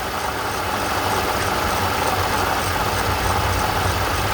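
A 2010 Toyota Camry XLE engine idling up close with a worn, rattling water pump pulley: a steady dense mechanical whir and hiss with a faint low hum and continuous fine rattle, no pauses.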